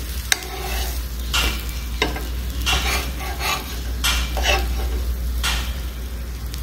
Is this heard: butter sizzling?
yes